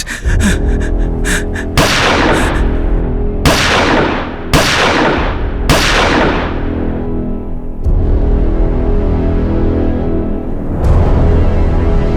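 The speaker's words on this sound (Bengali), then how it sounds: "উসমান, মেরে দে গুলি সালাদের" Gunfire in a Bengali TV crime drama: four or five loud, sharp shots crack out at uneven intervals, each followed by a quick decaying echo, over a steady dramatic background.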